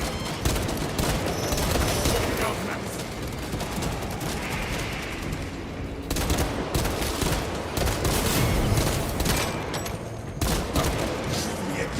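Dense, continuous gunfire from Warhammer 40k Space Marine, with rapid overlapping bursts and volleys pounding steadily throughout, loud and close with no voices.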